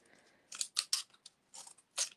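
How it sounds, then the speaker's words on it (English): Scissors snipping through folded paper while cutting a paper snowflake: a series of about six crisp, close cuts in quick uneven rhythm, with no talking. "And then take your good scissors"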